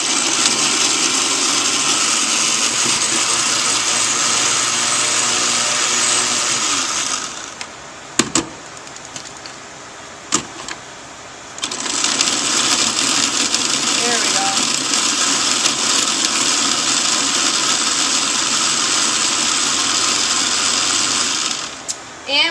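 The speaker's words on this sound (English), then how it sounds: "I have taken the bread that I just ground up in our food processor" A food processor grinds bread into crumbs with a loud, steady whirring motor that runs, pauses briefly with a few clicks, then starts up again at full power and stops near the end.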